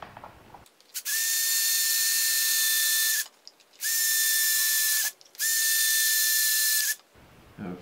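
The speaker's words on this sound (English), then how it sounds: "drill a couple of holes in this so that I can get my screwdriver bit through" A power drill bores holes through a panel of a DIY shop air cleaner so a screwdriver bit can pass, running loud and steady in three long whining bursts with short pauses between them and no talk.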